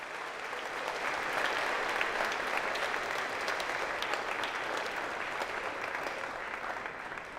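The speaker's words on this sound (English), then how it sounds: "So a quick, please, round of applause for all those." Sustained applause from a room full of people at a high school awards night, a steady dense wash of clapping holding at even loudness for the whole stretch with no voices over it.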